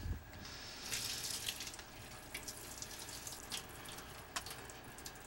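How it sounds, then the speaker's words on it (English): Water pours and trickles through a strainer as soaked mung beans are drained in a kitchen, a soft continuous splashing with small spattering bursts, faint and close. "I'll strain off my mung beans."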